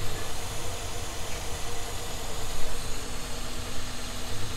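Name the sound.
Toyota Alphard car engine running at idle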